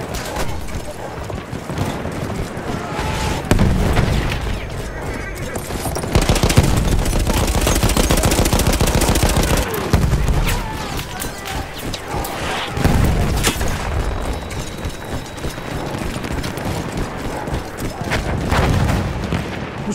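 Dense, sustained machine-gun fire in Battlefield 1 rattles in rapid bursts over loud battlefield noise with booms and engine rumble, and a voice speaks briefly amid the shooting.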